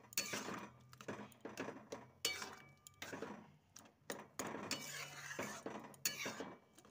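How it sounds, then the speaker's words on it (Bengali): Poppy seed paste being stirred in a bowl with a spatula, a steady run of scraping and clinking strokes close by, with no talk. "খুন্তিটা দিয়ে একটু নাড়াচাড়া করে নিচ্ছি"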